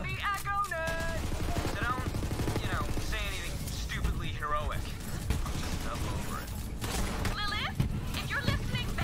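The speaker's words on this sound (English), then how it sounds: "her fucking laser gun is insane, dude" Rapid laser gun fire in the video game Borderlands 3, a dense stream of bursts layered with other game effects and music, heard under near-constant talk from players.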